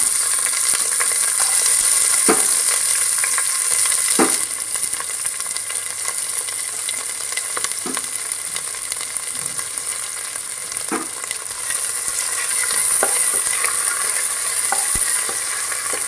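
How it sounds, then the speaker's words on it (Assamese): Onions fry over medium flame in a pan with dry chilli and bay leaf, giving a steady close sizzle and hiss punctuated by occasional scraping stirs of a spoon against the pan. "ৰঙা হোৱালৈকে মিডিয়াম ফ্লেমত অলপ সময় ভাজি ল'ব।"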